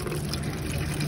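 Water pours steadily into a bowl while gravy is made for chicken, a continuous close splashing gush with no talk.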